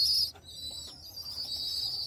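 Pigeons in a loft for keeping local Bangladeshi birds give soft, close coos and faint calls, with a brief gap early on and a steady low murmur underneath.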